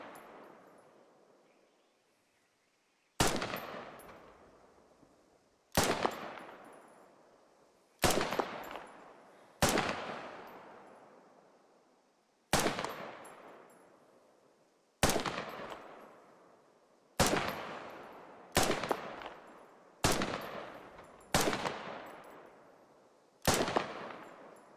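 Single rifle shots from a high-caliber marksman rifle in the video game Squad, about a dozen sharp, loud cracks, each followed by a ringing decay, spaced a few seconds apart with some coming in quicker pairs.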